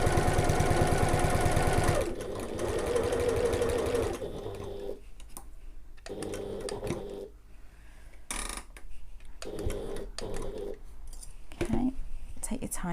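A sewing machine runs steadily while stitching fabric for a sling bag, loud and continuous at first, then stops and starts in short runs as a person talks over and between the bursts.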